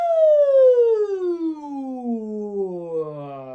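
A single voice imitates a siren during a theatre warm-up, one long gliding wail that sweeps steadily downward in pitch over a few seconds, loud and close, alone without other talk.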